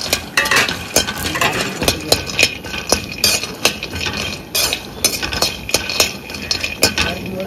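Ingredients with cashews dry-roasting in a pan for a sweet pooranam filling, a utensil scraping and clinking against the metal in irregular, close bursts, with no one talking.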